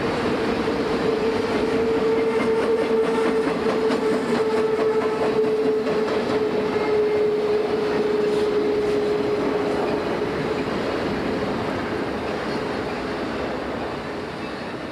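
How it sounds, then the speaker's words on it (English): Freight train led by bicentennial-painted diesel locomotives rolling through serpentine curves near Grass Lake Summit, a loud continuous rumble with a sustained wheel squeal ringing over it for most of the stretch, slowly easing toward the end. "The train rolls through the serpentine curves at the east end of Grass Lake Summit."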